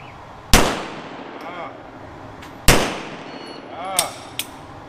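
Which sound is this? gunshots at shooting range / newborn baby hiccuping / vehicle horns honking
gunshots at shooting range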